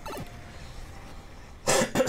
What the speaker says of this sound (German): Musste mich kurz mal räuspern